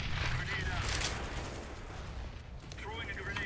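Dense, continuous gunfire and shooting through smoke on the Inferno map in Counter-Strike, loud and sustained with sharp bursts, while someone talks over it.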